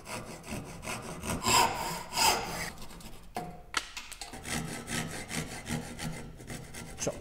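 A hand saw cuts the haunch of a wooden tenon in quick rhythmic rasping strokes, close by, with a brief pause midway before the sawing resumes.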